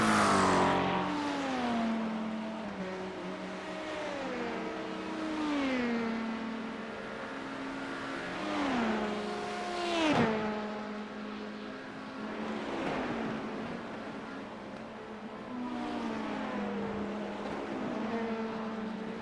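A simulated LMP2 prototype race car in iRacing howls continuously during an IMSA event, its engine pitch climbing and dropping repeatedly through gear changes and corners, loud and close with no talking.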